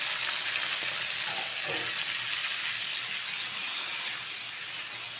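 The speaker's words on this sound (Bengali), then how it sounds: "চিংড়ি মাছটা একটু তেলের সাথে নেড়ে ফেলে নিচ্ছি" Prawns frying in hot oil with garlic, a loud, dense, continuous sizzle filling the whole stretch, close and unbroken.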